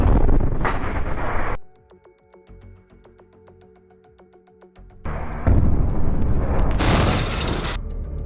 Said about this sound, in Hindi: उसके ऊपर एक रॉकेट लॉन्चर से हमला कर दिया जाता है, जिसमें जोरदार ब्लास्ट होता है